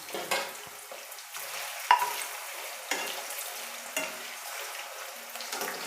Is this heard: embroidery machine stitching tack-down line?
no